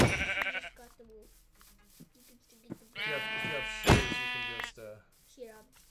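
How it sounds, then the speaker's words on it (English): Sheep bleating in the video game Minecraft, several distinct bleats, one short at the start and two louder ones near the end, between stretches of someone talking. "I told you this place has a lot of sheep"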